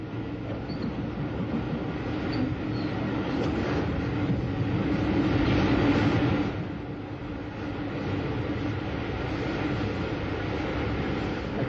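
A train crosses the Ouse Valley Viaduct on the Brighton line, giving a steady, loud rumble of wheels and carriages that swells briefly mid-way, then settles. No voices.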